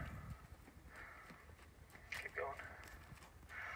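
Donkey hooves clop on the ground during groundwork at a walking pace, a soft, irregular scuffing beneath a voice.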